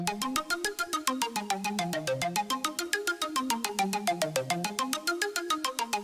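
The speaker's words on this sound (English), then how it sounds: "Arp. And as always, put an EQ on that." A bright synth arpeggio with EQ applied, rapid, evenly spaced plucked notes rising and falling in a repeating pattern, clear and upfront.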